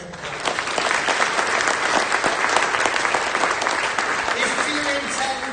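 Summit plenary audience clapping steadily and densely for several seconds, a sustained wash of many hands filling a large hall.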